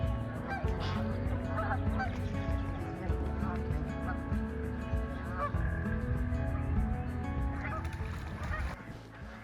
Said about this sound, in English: there's a lot of geese and ducks, a lot of quacking right now because we're at the Webster Pond